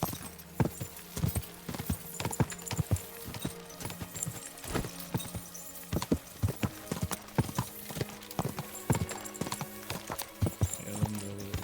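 Steady clip-clop of a horse's hooves in Kingdom Come Deliverance 2, evenly paced and fairly close, repeating for several seconds alone with only faint background ambience and no talking.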